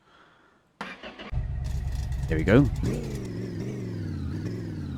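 A truck engine in a garage rebuilding video game cranks and catches, then settles into a steady idle with a couple of rising revs, loud and close, while someone briefly speaks over it.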